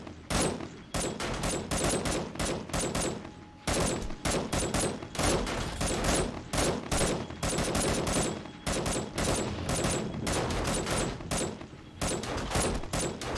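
Rapid, sustained automatic gunfire from the M gun in 7 Days to Die, loud and close, with dense bursts firing almost continuously and only brief gaps between them.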